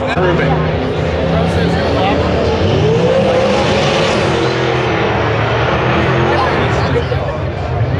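A Ford Mustang from Texas makes a loud, sustained drag racing run, its engine roaring continuously from start to finish while an announcer talks over it.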